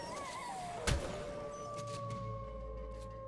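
Wolf howl in the video game ARK Survival on The Island, a long wavering tonal cry that holds steady and then trails off, with a brief sharp hit partway through and low background rumble.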